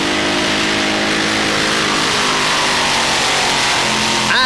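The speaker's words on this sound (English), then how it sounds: "And a full pull to Miss Liberty, but not too much two-wheel about it" Two-wheel-drive pulling tractor Miss Liberty, fitted with a borrowed blower, roars through a full pull at a 1995 European tractor pulling event in Hörby, Sweden, a loud sustained engine howl with shifting harmonics running steadily throughout.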